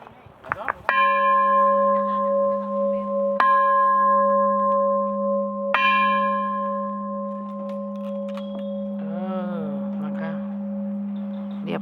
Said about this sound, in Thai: เดี๋ยวเราจะเคาะระฆัง